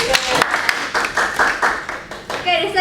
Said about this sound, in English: give applause to Rida